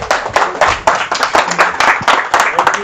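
Audience applause closing a speaker's session at a physical training event, a steady run of dense, close hand clapping with irregular sharp peaks, continuing without pause and with no voices over it.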